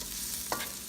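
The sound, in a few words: onions sizzling as they are added to the pan for chopsuey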